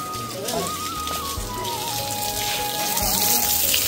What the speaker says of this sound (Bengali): টাটকা ডাবগুলো পানিতে ধুয়ে নিতেছি।